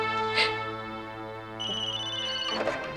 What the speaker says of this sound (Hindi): नो अश्विनी, मत लेना फोन।